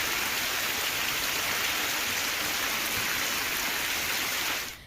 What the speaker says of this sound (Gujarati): રૂગનાથપુર, અંબાવા, કોયલિયા, સોનિકપુરમાં વરસાદ જોવા મળ્યો